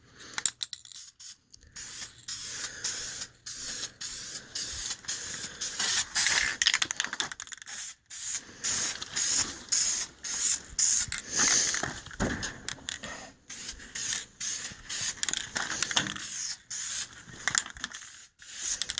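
Aerosol tint sprays in short hissing bursts onto car taillights for a light first coat, close and fairly quiet, with brief pauses between passes.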